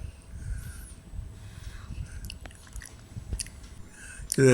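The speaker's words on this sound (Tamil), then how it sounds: "இப்போ ஃபிஷ் ஃப்ரை ஒரு சின்ன பீஸ் எடுத்து சாதத்தில் வச்சு அப்படியே பசைஞ்சு சாப்பிட்டு பார்க்கலாங்க" Rice mixed with a piece of fried seer fish is eaten at close range, with soft wet chewing and mouth sounds, a few faint clicks, and a brief clatter at the very end.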